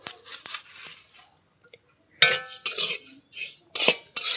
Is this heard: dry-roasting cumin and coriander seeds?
yes